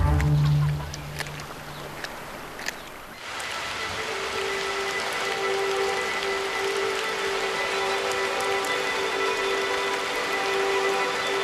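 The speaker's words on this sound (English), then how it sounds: "Back in the Highlands, the rains have come too, soaking the ground." Rain falls steadily over the ground in the Scottish Highlands in autumn, a dense, even hiss of drops that sets in after a few seconds and continues unbroken, with a faint tonal drone and occasional bird-like honks.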